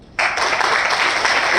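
Indoor audience applause at a training event, starting abruptly after a brief quiet moment and continuing as a loud, dense wash of many clapping hands.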